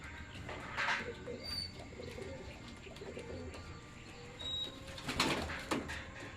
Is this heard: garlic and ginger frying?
no